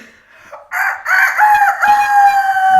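A voice imitates a rooster crowing, one drawn-out cock-a-doodle-doo, loud and close, rising then holding a long wavering note.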